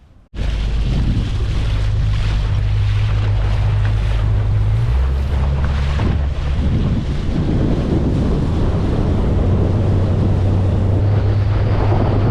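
A motorboat engine drones steadily over water at low tide, with wind buffeting the microphone and the motor's pitch shifting midway.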